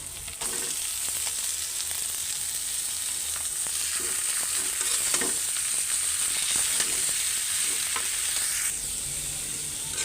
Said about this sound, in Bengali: শাক ভাজা শেষ